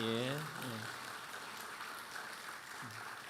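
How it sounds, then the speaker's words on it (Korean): Church revival audience clapping to cheer on children, a dense wash of applause that follows a brief voice at the start, with another short voice near the end. "우리 저 친구들 위해서 뜨거운 응원의 박수 한번 부탁합니다."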